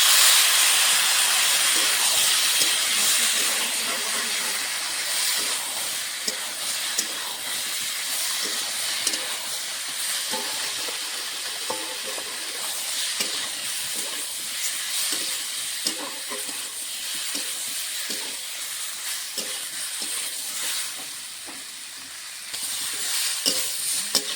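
Water hits a pan of frying mixed vegetables and lentils, raising a loud, continuous hiss of steam and sizzle that eases slightly near the end, with no one speaking.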